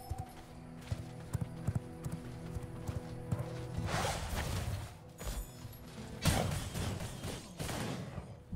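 Horse hooves clip-clopping in the video game V Rising, a series of light rhythmic hoof steps that speed into a quicker gallop with swishing movement, fairly quiet.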